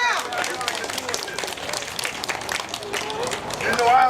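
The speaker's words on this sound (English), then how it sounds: "Please applaud yourselves." A rally crowd at an SEIU Local 6 fair-elections event applauds with sustained, dense clapping mixed with voices, swelling louder near the end.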